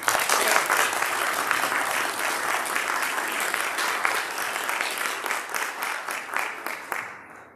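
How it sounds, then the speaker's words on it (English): A church audience applauds for the kids, dense sustained clapping from many hands that carries on steadily and then thins out and fades toward the end. "Let's give our kids another hand."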